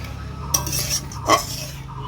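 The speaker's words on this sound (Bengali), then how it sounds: "এবার মশলাটাকে আমি ভালো করে ফুটিয়ে নেব।" Masala for a spicy okra dish cooks with a splash of water, giving a low simmering hiss broken by two brief scrapes of a spoon against the pan, close and without speech.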